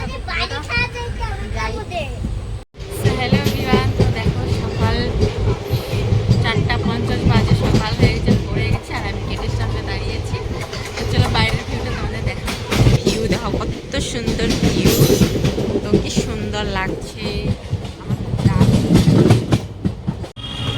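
A train rumbles and clatters along the tracks throughout, with people and someone talking and chattering over the rhythmic rolling noise.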